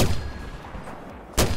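Mortar fire in the video game Battlefield 4: a sharp, loud blast opens, then a fainter rumble and another abrupt burst near the end, with no talk.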